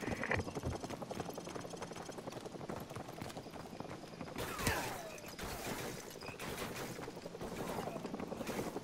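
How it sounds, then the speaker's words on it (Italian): An enemy helicopter's rotor thumps steadily in Call of Duty: Modern Warfare Remastered, with bursts of gunfire and battle noise over it and a louder impact midway. "Soap, prendi uno Stinger e abbatti quell'elicottero!"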